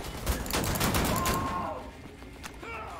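Rapid gunfire in the shooter game Wolfenstein: The New Order, a dense burst of loud shots in the first second and a half that then thins into scattered later cracks, with a faint voice in the mix.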